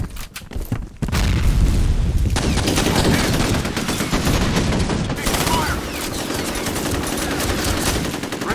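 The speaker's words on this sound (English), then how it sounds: "Grenade out." A grenade blast in a military shooter video game erupts with a heavy boom after a brief quiet start, followed by sustained, loud, rapid gunfire and battle noise that continues to the end.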